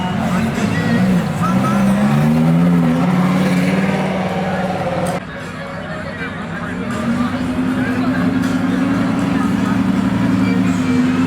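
At a supercar and hypercar rally gathering, an engine's rising and falling hum rolls beneath a busy crowd of talking onlookers, with the motor's tone steady and fairly near before easing off.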